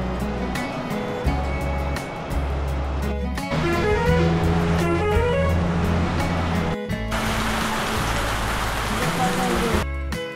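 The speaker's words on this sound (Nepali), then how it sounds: "बर्खा मास भएकोले पानीले हामीलाई स्वागत गर्यो।" Monsoon rain falls steadily on surfaces, a loud continuous hiss that swells in the second half, with music and a passing engine mixed in.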